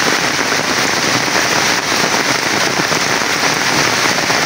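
A torrential downpour keeps up a constant, loud wash of hissing rainfall, close and steady from start to finish.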